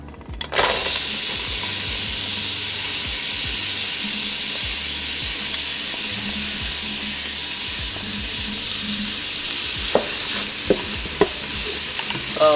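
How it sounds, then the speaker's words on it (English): Onions sauté in hot oil in a pan for collard greens, giving a loud, steady sizzle that starts abruptly and continues, with occasional stirring clicks and spatter, close up and with no talking. "So we're gonna saute this down for about 2 to 3 minutes as well."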